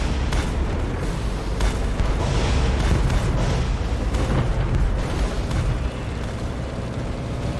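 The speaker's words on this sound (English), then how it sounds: "I do a perfect full-speed crash sideways that completely obliterated him" A tank ramming and destroying an enemy tank in Tank Off, a sustained loud roar of crashing, booming blasts and rumbling engine noise, dense and continuous with no talking.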